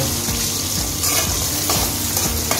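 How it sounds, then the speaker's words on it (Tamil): Onions sautéing in a pan for a spicy mixed vegetable gravy, a steady loud sizzle with a spatula scraping and stirring in a rough, repeating rhythm throughout, close up and with no talking. "வெங்காயம் சேர்த்து வெங்காயம் வந்து ஓரளவுக்கு நல்லா வதங்க விட்டுருவோம்"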